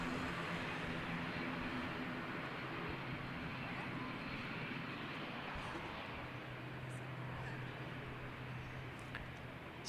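A Sounds Air propeller plane at Christchurch Airport drones steadily in the distance, a broad, even engine rumble with a low hum rising later, with faint voices underneath.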